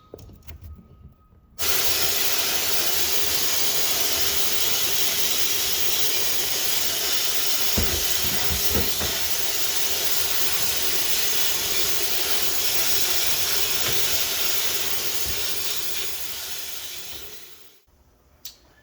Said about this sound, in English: I've got the sandblasting done